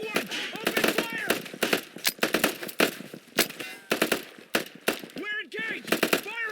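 Rapid bursts of automatic gunfire in a military shooter game, Delta Force raiding insurgents, crack out loud and close in quick repeated volleys, with shouted voices mixed in between the shots.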